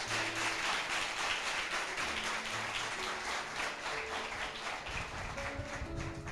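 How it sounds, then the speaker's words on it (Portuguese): A church congregation clapping during a Sunday celebration service: dense, sustained applause filling the whole stretch at an even loudness, with faint musical notes underneath. "Você pode dar uma salva de palmas para o Senhor Jesus?"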